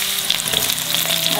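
Shallots, ginger and star anise fry in a pan with a close, steady, crackling sizzle that continues without pause and without any talk.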